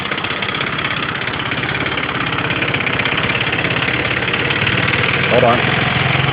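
A Lingben Messiah scooter moped engine running steadily at idle, a close, rough, buzzing putter with a fast, even pulse throughout, a person briefly speaking over it.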